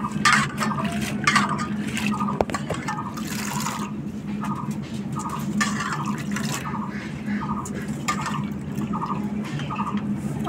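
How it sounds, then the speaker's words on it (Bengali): Potatoes being washed by hand in a bowl of water, with continuous sloshing, splashing and dripping up close and soft knocks against the container. "আলুগুলো সুন্দর করে ধুতে হবে, নাহলে রান্না করার সময় কালো কালো হয়ে যাবে আলুটা।"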